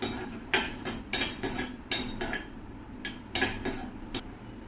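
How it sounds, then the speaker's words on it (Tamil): Cashews and raisins fried in ghee, a spoon clinking and scraping against the pan in quick irregular strokes, a dozen or so sharp taps close by with no talk. "இது ரெண்டுத்தையும் சேர்த்து நல்லா ஃப்ரை பண்ணிக்கலாம்."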